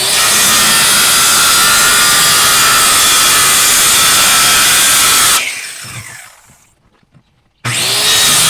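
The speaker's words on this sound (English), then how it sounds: "I just took the skill saw and rounded off the edges." A skill saw rounding off the edges of wood pieces for a chicken coop, running loud and steady with a harsh whine, then winding down into near silence before starting up again at full volume.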